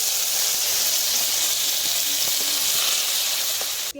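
Onion paste frying in oil in a wok with black cumin, a steady loud hiss and sizzle that holds evenly throughout and cuts off sharply at the very end.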